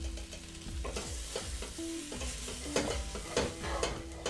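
Chilli, garlic, ground coriander, turmeric, hot chili powder and cumin get stirred in a hot pan, with a spoon scraping and clanking again and again over a continuous sizzle, close and without talk.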